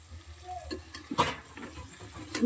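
Fish frying in a pan for a home-cooked fish curry, with a steady soft sizzle and a few stirring scrapes, the loudest near the middle and end.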